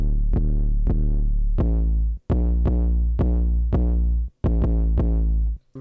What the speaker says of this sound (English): So here's some 808s for you.